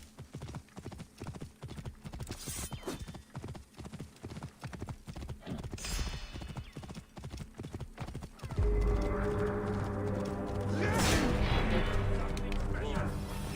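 Hooves of pack donkeys clop in a quick, steady rhythm in Assassin's Creed Origins, with game ambience that swells into a louder droning wash partway through while someone talks over it.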